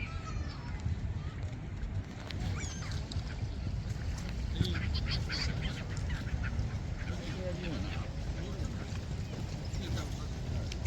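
Ducks and geese riding on a boat honk and quack in a noisy outdoor winter park scene in Japan, with people talking and general crowd bustle throughout.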